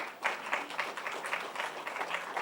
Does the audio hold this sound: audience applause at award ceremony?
yes